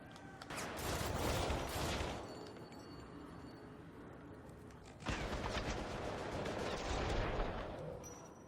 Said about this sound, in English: Sniper rifle ain't no joke.